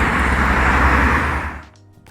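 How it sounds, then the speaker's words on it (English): Loud, close city street traffic in Melbourne, a steady broadband roar of passing cars and engines that fades sharply near the end, leaving quieter background sounds. "I'm cutting this video short because the traffic noise"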